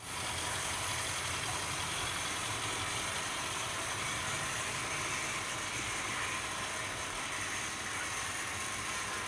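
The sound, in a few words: J50 model locomotive running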